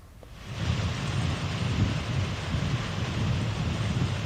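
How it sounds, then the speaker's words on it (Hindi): Heavy rain and strong gusting wind of a cyclone-driven storm in Gwalior roar as a steady, loud, dense wash that holds throughout without a break. "जो अभी तक बारिश चल रही है, तेज हवा आंधी भी चल रही है"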